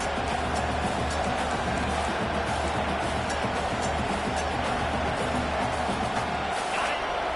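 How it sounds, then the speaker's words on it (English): Steady, dense roar of a large stadium crowd at a college football game against South Carolina, loud and continuous throughout with no individual voices standing out. "This crowd trying to make life miserable for this offense."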